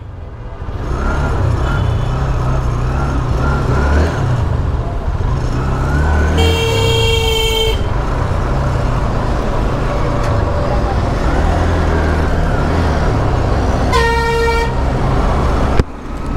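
Busy road traffic heard from a stopped motorcycle, a 2013 Apache, with a constant engine rumble and two long, loud car horn blasts, one near the middle and another near the end.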